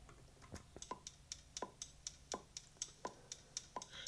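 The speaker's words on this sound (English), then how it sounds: "lots of pages use this different sound effect for the clock. It's kind of more, gives you the anxious vibes." A clock sound effect ticks steadily and evenly, each crisp tick alternating with a lower tock in a tense, regular rhythm, faint and alone.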